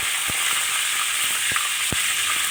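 Cumin and chopped dried chilli sizzle steadily in hot oil for a Chettinad mutton varuval, a dense, loud, continuous hiss broken by a few faint clicks of a stirring spoon.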